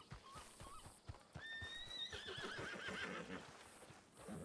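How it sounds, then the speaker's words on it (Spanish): A horse in the roleplay video game RedM neighs in a long, rising whinny while hooves clop and thud rhythmically nearby, all fairly faint. "el caballo, que ha decidido darle una doble patada letal"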